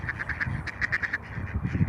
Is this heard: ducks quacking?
yes